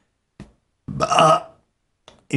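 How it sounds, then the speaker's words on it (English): A single loud, drawn-out belch from a person on a late-night radio stream, close to the microphone, preceded and followed by faint short mouth noises. "belch"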